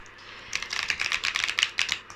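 Energy Oracle cards are drawn and shuffled from the deck in a quiet room, a close run of quick, light papery flicks and taps following a brief hush.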